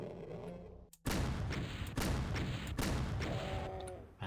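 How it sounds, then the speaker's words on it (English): Deep, bassy cannon blasts in a whaling video game set aboard a sinking ship, several loud booming shots in a row after a brief lull, each with a heavy low rumble and long decaying tail. "Man, that's a deep, bassy little cannon"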